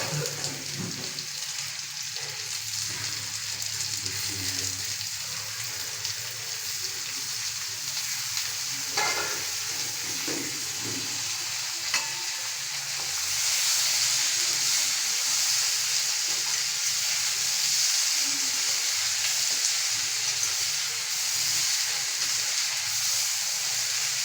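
Potatoes frying in a pan give a continuous close hiss and sizzle with occasional stirring scrapes, and the frying grows brighter and louder partway through.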